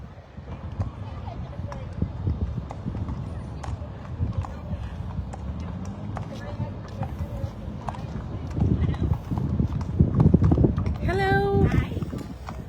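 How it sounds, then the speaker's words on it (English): Horses in a Veterans Day parade clip-clop on pavement in an irregular, steady rhythm, close by, amid crowd noise, with someone speaking toward the end. "We have some horses here."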